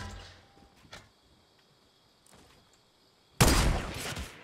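A sniper rifle shot in Fortnite cracks loudly near the end, a single sharp blast with a lingering tail, preceded by a few faint distant pops over a quiet background.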